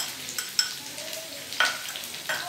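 Spices, turmeric, salt, red chili and dried coriander, are stirred into a karela pickle, with a few soft scrapes and clinks of a spoon against the bowl, close and quiet.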